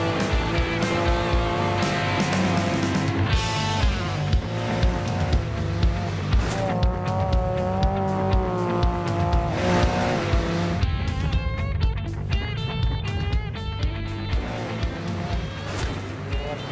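A Baja-style Volkswagen Beetle accelerates toward a jump at close to 55 miles per hour, its engine note rising and falling loudly under continuous background music and occasional voices.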